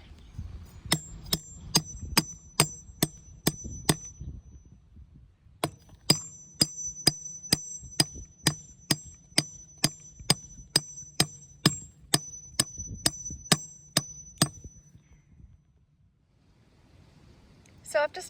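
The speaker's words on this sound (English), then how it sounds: "So I've just tapped the hinge all the way through." A hammer taps a farm gate hinge through a wooden post in two steady bursts of sharp, ringing metallic strikes, about seven blows, a pause, then around fifteen more, close and loud over low background noise.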